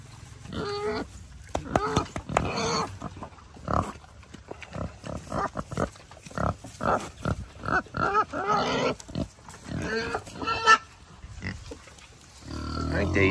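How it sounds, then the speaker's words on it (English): Pigs at an animal sanctuary grunt intermittently close by, one large pig among them, while a person talks over them throughout. "There's a big pig."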